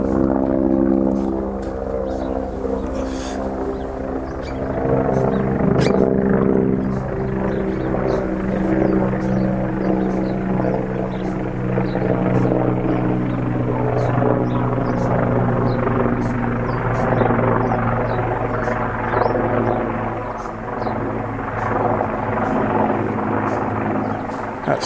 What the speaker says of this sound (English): That's the rescue chopper